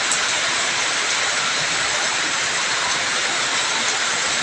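Floodwater rushes after heavy rain in a flooded neighborhood, a loud, unbroken roar of flowing water that holds steady from start to finish with no voices over it.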